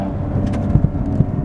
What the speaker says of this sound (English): The car's very loud too.